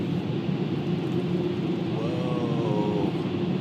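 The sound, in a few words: car wash dryer blowing air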